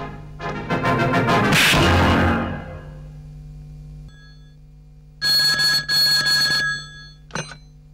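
A telephone rings in loud trilling bursts, one long ring followed by two shorter ones and a brief final chirp, with nothing else around it.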